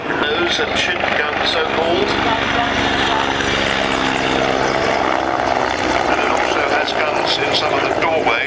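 A helicopter flies close by at the Sanicole Airshow in Belgium, its loud rotor and turbine roar steady and continuous, with a voice talking over it.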